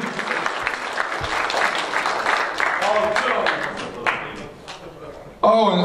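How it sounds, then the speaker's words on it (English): Applause at a school assembly for a student, a sustained round of crowd clapping in a hall with people talking over it, then a sudden louder burst near the end. "Round of applause for Mr. Filippini"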